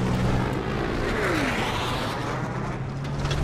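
A helicopter in the Battlefield 4 video game drones loudly and continuously overhead, its engine roar dense and unbroken, with a brief tone sliding down in pitch midway.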